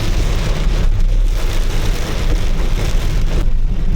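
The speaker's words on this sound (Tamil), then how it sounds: "அங்கேயும் இப்போ பாருங்கள் மழை பெய்யுது, ரோட்டு ஒன்றுமே தெரியல" Heavy rain pours down on a hill road, a loud, steady, dense hiss with a low rumble underneath that continues without a break for the whole stretch, with no voices.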